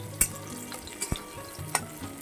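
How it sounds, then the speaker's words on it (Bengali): Dal (lentils) cooks in a pan with a continuous low sizzle and bubbling, broken by a few sharp clinks and taps. "ডালও খুব সুন্দর ফুটে উঠেছে।"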